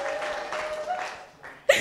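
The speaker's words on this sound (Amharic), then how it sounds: "እልልታ ጭብጨባ ለጌታ ክብር" A church congregation bursts into ululation and clapping during a prophecy and deliverance service: a brief, lively wash of hand claps with high trilling voices, rising sharply at the end.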